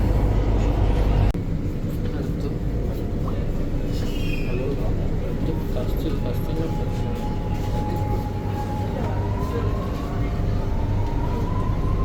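A Chennai metro train ride from the airport carries a steady low rumble and rolling rail noise, with a loud clunk early on and a faint rising whine as the train accelerates, close and continuous.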